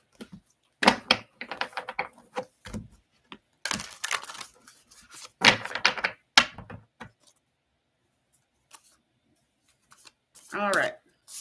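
Crisp bursts of tarot cards riffling and slapping together, several rounds separated by pauses, close up, with a voice speaking near the end.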